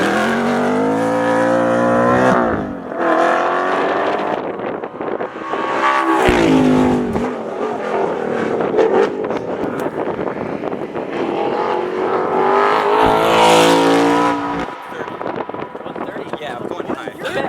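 An Audi R8 accelerates hard, its exhaust letting out loud, rising engine roars broken by brief dips between gear changes. People talk and shout over the sound from inside the car.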